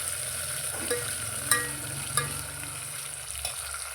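Green chillies and onions sauté in a pan with a steady low sizzle, a couple of spatula taps and scrapes rising briefly above it.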